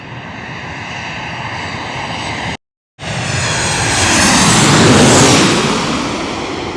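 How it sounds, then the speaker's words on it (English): An American Airlines Boeing 737-800 arriving from Charlotte, North Carolina roars loudly on its landing approach, a steady broadband jet rumble that briefly cuts out, then swells to a peak and eases off slightly. "We got a Boeing 737-800 coming in from Charlotte, North Carolina."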